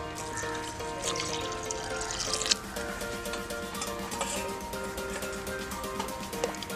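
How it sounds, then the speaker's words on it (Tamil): Water pours steadily into a soup pot for drumstick stem soup, a continuous splashing trickle with a faint metallic ring, close by and without speech. "இப்போ சூப்புக்கு தேவையான அளவு நம்ம தண்ணி சேர்த்துக்கலாம்."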